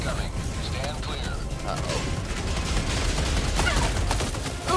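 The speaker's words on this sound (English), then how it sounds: "Orbital barrage incoming." Orbital barrage explosions pound down in Helldivers 2, a dense, loud, continuous rumble of rapid blasts and crackling impacts, with voices faintly underneath.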